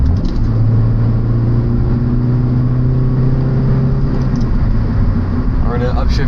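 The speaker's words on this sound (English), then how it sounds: "I should really downshift in the third here" A 1994 Honda Accord engine revs during a downshift, a steady mid-pitched drone with a rising tone held loud and close throughout, with cabin rumble beneath.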